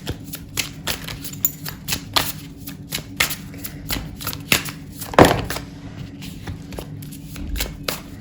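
Tarot cards being shuffled by hand in a steady series of crisp riffling bursts and soft slaps, close and fairly loud, with a sharper clack near the middle and no talk.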